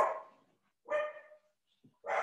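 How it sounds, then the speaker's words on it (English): A dog indoors at home gives three loud, sharp barks spaced about a second apart, close by, with silence between them. "I'm going to have my dog going crazy."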